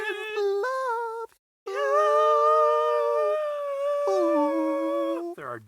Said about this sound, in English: There are dogs barking right now.